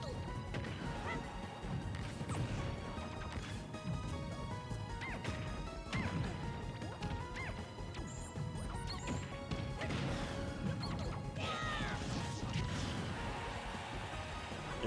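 Repeated crashing and thwacking hit impacts during a Super Smash Bros Ultimate match against Jigglypuff at a tournament, dense and continuous under game music and effects.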